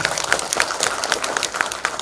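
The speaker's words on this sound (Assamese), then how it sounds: "এটা জোৰকৈ হাত চাপৰি হ'ব লাগে।" Audience at a memorial day ceremony held by Assam Police applauds with a brief burst of fairly close, dense hand clapping.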